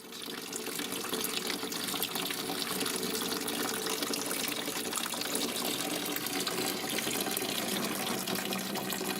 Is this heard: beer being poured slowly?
yes